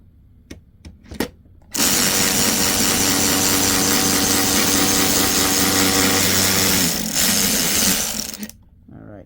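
Craftsman V20 extended multi-size cordless ratchet motor whirring loudly and steadily for several seconds after a few brief clicks, close by, then spinning down.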